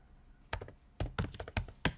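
Keys tapped on a computer keyboard while entering a first name into a Python program, a few irregular bursts of close, sharp keystrokes with short pauses between them and no talking.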